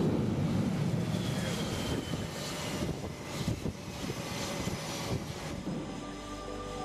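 Roaring broadband jet noise of a 24,000-pound fighter jet landing on an aircraft carrier deck, with wind rush, a steady loud blast throughout, under faint narration.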